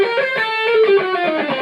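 An electric guitar through a tweed-style valve amp turned down below 1 watt with an attenuator plays a chuggy, mildly overdriven riff, loud and up close, alone with no talking.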